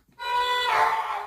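A Star Wars Yoda death sound, time-stretched into a sustained, tonal drone with a steady pitch, playing alone and fairly loud for about a second, its texture roughening partway through.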